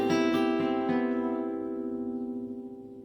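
A custom major-nine voicing on guitar, strummed once and left ringing, decays slowly over about three seconds with no talking.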